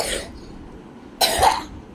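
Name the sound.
coughing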